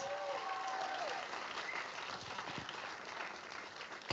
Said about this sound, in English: So how about one more time? Round of applause.